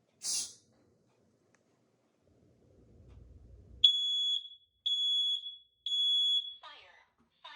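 A smoke/CO alarm under test lets out three loud, piercing beeps of equal length at steady intervals in a full house inspection, with some low rustling before the beeps and brief breathy noises at the start and end.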